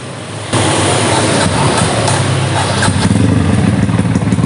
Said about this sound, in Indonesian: Motor KRX 150 di bore up, ini kisaran cc-nya itu 185 lah.